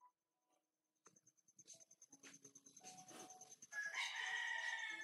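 A rooster crows in a poor rural Filipino home in the late afternoon, a faint rising call building to a sustained cry near the end amid soft background clatter, with no talking.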